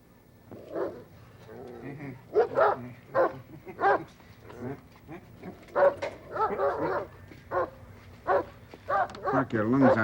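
Several dogs barking in repeated bursts, close and loud, with yips and a whimper among them, while someone shouts angrily over the barking.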